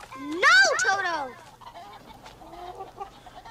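Chickens from the 1985 film Return to Oz let out a loud, close burst of squawking clucks, then quieter clucking continues under faint background sound.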